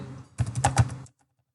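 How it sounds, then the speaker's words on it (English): Python code typed on a computer keyboard: a short close burst of several quick key clicks lasting under a second, then silence. "So first we need to type the import statement of the turtle library."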